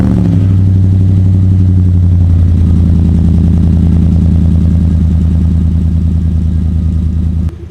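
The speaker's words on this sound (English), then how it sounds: "you guys can have a little gas versus diesel cold start comparison now" A gasoline pickup truck's engine turns over on a cold, dewy morning and settles into a loud, steady idle close by, running throughout before cutting off abruptly at the end.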